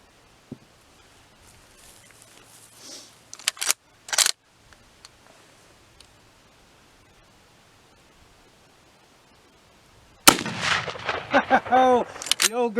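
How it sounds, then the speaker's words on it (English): A single loud, sharp blast from an old Winchester 1886 lever-action rifle chambered in .45-70 fires outdoors, followed by a ringing echo that trails off, after a long quiet stretch with faint handling sounds. "this is going to be my first time shooting this old 86"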